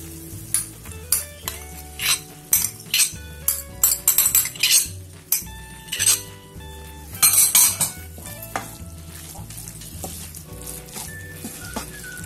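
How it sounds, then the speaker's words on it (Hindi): A spoon stirs and scrapes through a chicken filling with cheese and mayonnaise in a metal pan or bowl. Repeated clinks and wet mixing scrapes come in irregular bursts close up, with a faint steady hum underneath and no talk. "ये चीज़ भी हम इसमें मिक्स कर देंगे और ये मायोनीज भी हम इसमें डाल देंगे"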